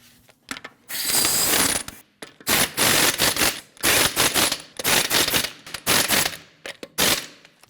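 Ratchet snugging bolts on a 2012-2016 Honda CR-V front strut mount: rapid mechanical clicking in several loud bursts, short pauses between them, close and alone.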